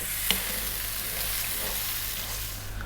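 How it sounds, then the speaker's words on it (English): A tomato sauce with oregano and chili powder simmers and fries over lively heat for eggplant parmesan, a soft steady sizzle with one brief clink of a utensil early on and low hum beneath. "Stay on this vibrant heat, giving it a stir fairly often."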